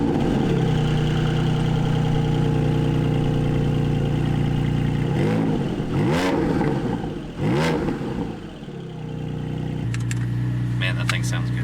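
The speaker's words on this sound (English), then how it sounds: "You got the engine right there." A Porsche Cayman GT4 sports car engine idles with a steady low drone, rising twice into short, sharp revs and then settling back to idle, with people talking nearby over it.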